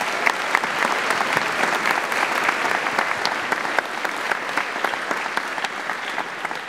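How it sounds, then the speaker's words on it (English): Audience applause for start-up founders at a class demo day, sustained dense clapping with sharp individual claps standing out, steady and fairly close throughout. "Let's give another round of applause for all the founders."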